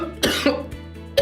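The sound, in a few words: cough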